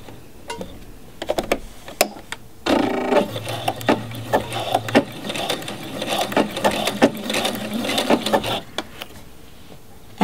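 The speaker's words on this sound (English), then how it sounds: "And I'm just gonna do an overlock zigzag stitch." A sewing machine runs an overlock zigzag stitch along a fabric hem, a fast steady mechanical whirring and clatter for several seconds, with short starts and stops around it and light handling noise.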